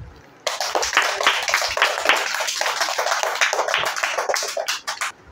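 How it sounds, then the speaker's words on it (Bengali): A second-grade classroom of children bursts into close, dense rapid clapping for a classmate, a sustained round of applause lasting several seconds before tapering off. "নির্ণয়ের জন্য সবাই আগে একটা করতালি দাও"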